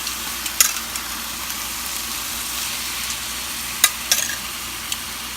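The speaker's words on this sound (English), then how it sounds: "let's go ahead and put the pork chops in" Pork chops fry in a hot pan with a steady, bright sizzle and hiss, broken by a few sharp pops and spatters, close and alone with no talking.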